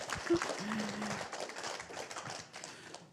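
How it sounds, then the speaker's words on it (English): Audience applause at a DePin Day tech event at Vossler Studios, a short burst of scattered clapping from a small crowd, fairly faint, with a few voices and cheers mixed in. "This is where you guys clap."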